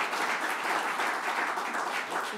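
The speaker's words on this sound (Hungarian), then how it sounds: "nagy tapsot Noéminek" An audience applauds after a book presentation, with dense, steady clapping throughout at an even level and no voices.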